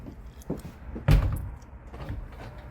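The bunk room door in a Westbrook 305DBLC camper slides shut with a firm thunk. A couple of faint knocks come first, and quiet handling noise follows. The door is close and there is no talking.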